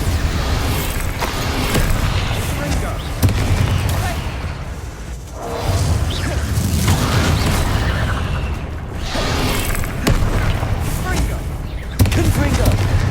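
Bombarda blasting spells explode in Hogwarts Legacy combat, a run of loud booming bursts and crackling impacts layered with whooshes and busy game effects, repeating every few seconds.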